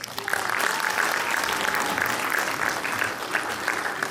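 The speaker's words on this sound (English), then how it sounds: "I think they also deserve a good round of applause" Steady applause from an audience at a school function, a dense even patter of many hands clapping throughout, moderately loud and with no voices over it.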